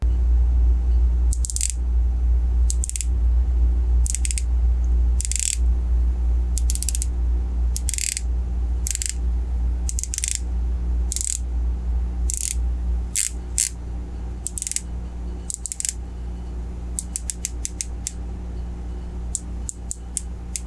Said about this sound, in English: the clicks are crystal clear and very crisp